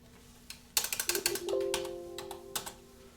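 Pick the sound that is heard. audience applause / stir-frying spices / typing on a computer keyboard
typing on a computer keyboard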